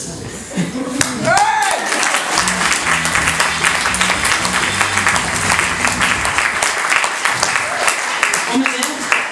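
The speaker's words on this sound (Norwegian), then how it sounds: "vår generelle applaus" Studio audience applause on the Norwegian game show Pointless, a loud, sustained burst of clapping with some crowd noise and occasional voices mixed in.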